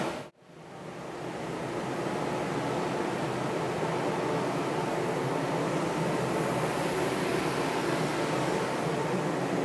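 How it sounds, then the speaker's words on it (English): GTS1200 ride-on floor sweeper running steadily with its fan on and main and side brushes down, a constant loud broadband whoosh and hum that starts abruptly after a brief silence and holds without change. "We have a fan that we turn on. We drop the main brush and side brush, and that's all it is. And we drive forward."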